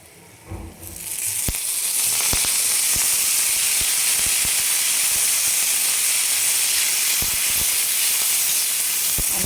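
Cluster beans on a hot tawa burst into loud, steady hissing sizzle as a little oil hits the pan, with sharp crackles and pops scattered through the continuous close spitting.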